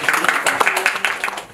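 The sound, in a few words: applause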